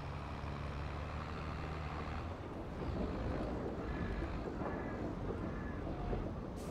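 A tractor engine running in Farming Simulator 22, a steady low rumbling drone that holds throughout at a moderate level, with no one talking.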